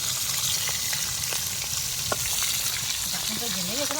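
Boal fish frying in a pan in a village kitchen, a loud, steady hissing sizzle of oil throughout, with faint clinks and a brief voice near the end.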